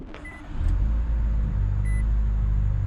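2019 Nissan Altima starting by push button with the brake pressed: a short chime and click, then the engine catches and settles into a steady, low idle hum, close and moderately loud, with a brief beep partway through.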